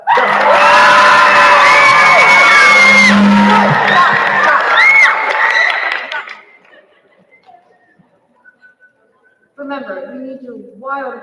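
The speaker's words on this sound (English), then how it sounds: "I want to hear the most loudest, wildest applause." Loud, wild applause and cheering erupts from a school crowd at a speech competition final, with whoops and children's shouts sustained for about six seconds before cutting off; after a short lull, voices and scattered cheering return.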